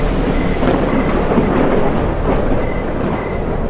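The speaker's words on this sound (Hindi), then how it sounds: "तभी आसमान में जोरदार बिजली कड़की।" Loud, steady storm roar with rumbling thunder and a wash of rain-like noise, unbroken and alone for a few seconds, used as a thunderclap effect in a horror story.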